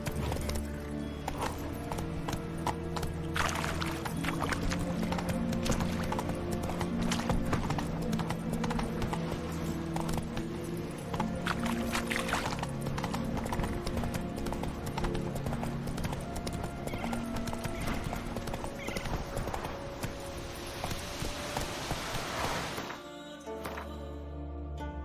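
Roach, the horse in The Witcher 3, gallops in a rapid, steady clip-clop of hooves with an occasional whinny, close and loud over continuous game music until a brief drop near the end.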